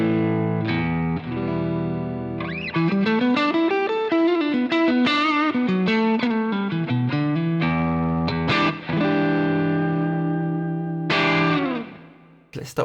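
Electric guitar played with a clean tone through a JAM Kochness Monster multi pedal, a run of clear picked notes and chords ringing out over about thirteen seconds, close and loud with no talk, ending on a sustained chord that fades.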